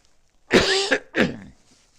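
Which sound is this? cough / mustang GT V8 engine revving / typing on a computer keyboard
cough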